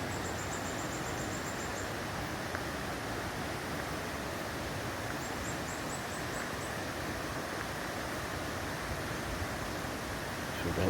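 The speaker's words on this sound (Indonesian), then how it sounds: "riak-riak sungai kecil yang kena bebatuan." A small river ripples over rocks near a waterfall at Curug Gorobog in Sumedang, West Java. The broad, steady wash of water runs throughout at moderate level, with faint high chirps above it and no talk.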